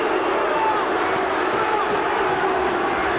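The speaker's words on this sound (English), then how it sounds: "The crowd, well, they don't like it" Large rugby crowd at a 1989 Auckland versus Australia match gives a sustained, loud roar of disapproval after a penalty, with a commentator talking over the noise.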